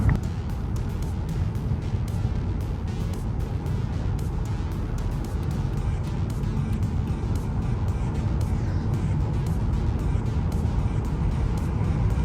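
A formerly abandoned Mercedes S500 on its first drive on the motorway, with a steady, loud rush of engine, tyre and wind noise heard from inside the cabin throughout.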